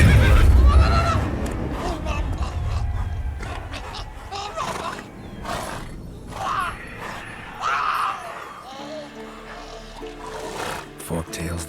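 A horse whinnies in The Witcher 3 amid loud game ambience, with roaring creature sounds and hoofbeats mixed in, the neigh rising clearly near the start and fading behind other effects.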